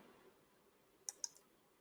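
Two quick, sharp computer mouse clicks sound close and quiet, about 0.15 seconds apart, against a faint room hush.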